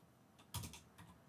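A short burst of typing on a computer keyboard: a few crisp, close keystrokes with one louder clack near the middle and no talking.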